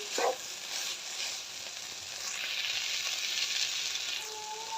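Chicken pieces fry and brown in a pan for a chicken cream sandwich, a steady close sizzle hissing throughout with a few faint stirring scrapes and no voices.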